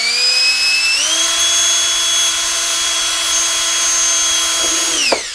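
A high, steady whine of a hand drill boring through plastic, pitch stepping up early, then a brief clunk as it stops near the end.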